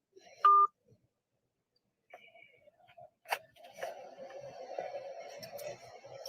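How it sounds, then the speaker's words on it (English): A brief electronic telephone tone sounds once, then near silence; a call is being hung up. Faint murmuring and soft noises follow, with the tone itself the loudest moment. "He just hung up the phone"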